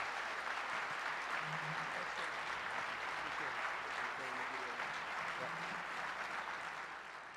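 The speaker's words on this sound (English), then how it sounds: "Big round of applause for Deo Mwano." A conference audience applauds after a keynote presentation, with a sustained, even wash of clapping that fades slightly at the end while a voice speaks over it.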